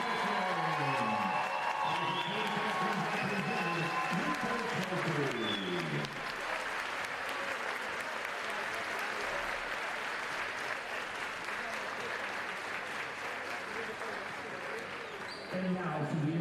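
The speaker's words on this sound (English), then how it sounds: "let's give a big round of applause to the Francis Howell Central" Sustained applause and crowd cheering in a gym at a state volleyball final awards ceremony, honoring the second-place team; a PA announcer talks over the clapping at first, then the applause continues evenly and loud.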